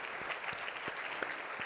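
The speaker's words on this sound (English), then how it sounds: "can we get a round of applause for AHP for putting this together?" Summit audience clapping for AHP, the organisers of a public health event on cannabis policy, a brief, even patter of applause from a modest crowd.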